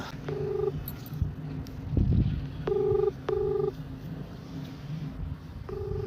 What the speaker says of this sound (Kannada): ಇವಾಗ ಕರೆಯೋಣ ನಾವು ತಂಗಿಗೆ ಫೋನ್ ಹಾಕೋಣ ಈಗ